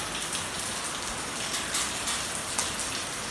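Steady rain falls after a solar eclipse, a constant close hiss of drops on surfaces with no voices.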